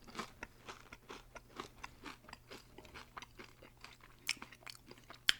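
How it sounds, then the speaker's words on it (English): Crispy fried chicken crunches under repeated bites and chewing, a close, crackly series of crunches in an even rhythm with a couple of sharper snaps near the end. "Check out that crunch."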